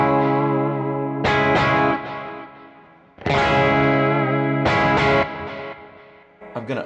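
Electric guitar played through a Kemper profiler with no soft shaper in front: distorted chords are struck and left to ring, several strums in a row, each decaying with a bright, saturated tone and no talking.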